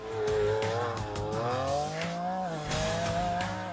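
A roughly 40-million car drifts on a closed track, its engine note rising and falling steadily while tires squeal loudly and continuously close by.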